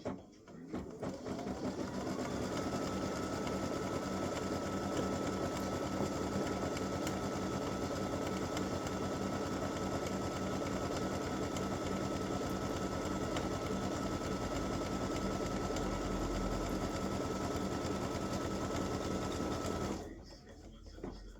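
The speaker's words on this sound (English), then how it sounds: "it's going to stitch my seam line" An embroidery machine stitches a seam line on a hooped in-the-hoop mug rug panel, giving a fast, steady mechanical rattle that starts, runs continuously for about twenty seconds, and stops.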